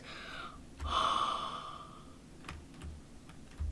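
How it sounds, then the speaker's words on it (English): A person yawns near the microphone, a long drawn-out breathy exhale with a tonal rise that fades over about a second and a half, followed by a few soft clicks. "I was yawning again"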